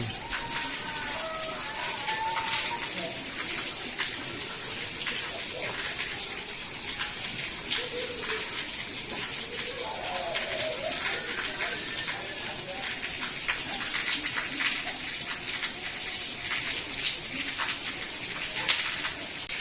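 Heavy early-morning monsoon rain falls steadily in a continuous dense patter and hiss, with faint indistinct voices and household sounds beneath it throughout.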